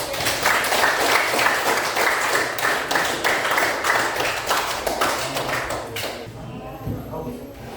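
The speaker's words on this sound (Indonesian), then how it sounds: "Tepuk tangan dulu dong kedua." Students in a classroom group presentation clap for the first group, a lively burst of hand claps for about six seconds that stops abruptly, followed by a quieter moment with faint voices.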